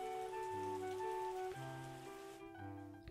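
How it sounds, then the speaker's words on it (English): A steady hiss of rain falls in the vineyard-management video game Terroir, a soft continuous wash sitting beneath louder sustained musical tones. "Oh wow, it's still raining."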